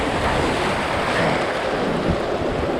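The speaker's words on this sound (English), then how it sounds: "This is one of the little rapids here." Rushing water from a small river rapid runs as a steady, broadband roar, loud and close, with continuous turbulent hiss and no voices.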